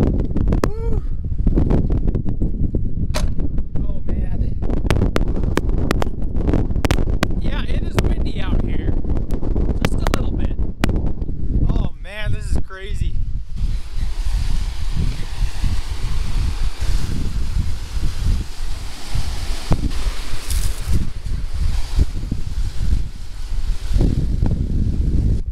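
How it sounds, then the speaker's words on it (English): Strong gusty wind roars over the microphone beside a mountain trout stream, loud and continuous throughout, with brief bursts of rustling and a voice speaking under the noise in the first half. "the wind isn't as bad down here, but it's still pretty bad"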